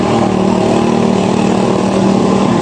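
Motorcycles passing on a road, a loud close engine drone with a steady buzzing hum that holds through the moment.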